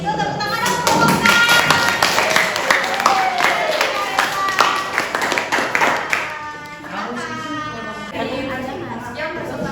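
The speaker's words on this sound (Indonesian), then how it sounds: "tepuk tangan untuk kelompoknya" A classroom group claps together after a presentation, a dense patter of many hands close by that fades after about six seconds as a voice begins talking.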